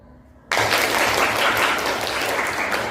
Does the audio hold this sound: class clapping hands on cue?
yes